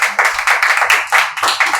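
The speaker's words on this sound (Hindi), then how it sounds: "जोरदार ताली" Crowd at a Bihar wedding event clapping loudly in a quick, uneven run of claps lasting under two seconds, close and with no speech over it.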